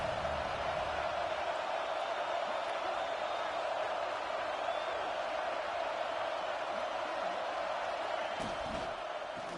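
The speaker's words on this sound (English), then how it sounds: "Third down play in the red zone, and this crowd is at fever pitch." Football stadium crowd roaring during a third-down play in the red zone, a dense, steady wash of cheering and noise filling the whole stretch with no clear breaks, heard up close and loud.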